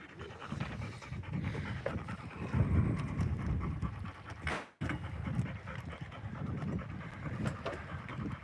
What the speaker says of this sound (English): He's the oyster dog.